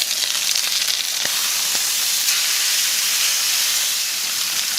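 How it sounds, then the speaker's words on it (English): A rib eye steak fries in hot oil with a loud, steady sizzle and hiss, broken by a couple of brief sharper pops, and no voice over it. "After 3 minutes, we're gonna flip our steak."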